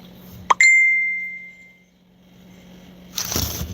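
A phone rings with an incoming call indoors, a single bright electronic chime that rings out and decays over about a second, followed by quieter rustling and handling noise.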